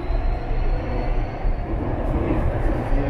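A Vancouver SkyTrain metro car in motion gives a continuous loud rumble and rolling track noise from inside the carriage, with no talk over it.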